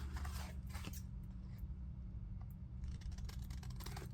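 Scissors trim the edge of a paper tag covered with scraps of lace and paper, several quiet crisp snipping cuts in short bursts near the start and end, close and faint over a low background hum.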